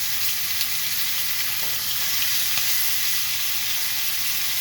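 Lamb chops fry in a pan with a steady, bright sizzle, close and continuous, with a few soft clinks as the meat is moved around.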